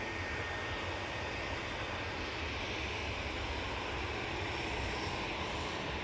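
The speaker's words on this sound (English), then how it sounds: "Ryanair coming on right in front of us." A Ryanair airliner departing Manchester Airport for Seville taxis past with a steady, broad jet engine roar, heard at a distance over continuous outdoor noise.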